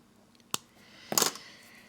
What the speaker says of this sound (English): And then just cut the ends.